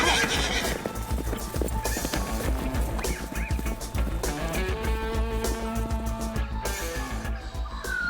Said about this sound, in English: let's give these horses some exercise